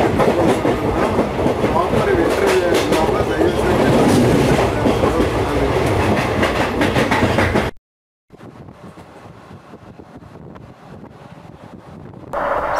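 Ganga Kaveri Express passenger train rolling through Madhya Pradesh, with loud steady rumble and rhythmic wheel clatter plus wind buffeting, briefly dropping out partway before the running noise resumes more faintly.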